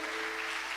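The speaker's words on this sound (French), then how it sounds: "Applaudissons la parole de Dieu" Brief burst of a church congregation clapping to honour the word of God, a thick, steady hiss of many hands with a faint hum underneath.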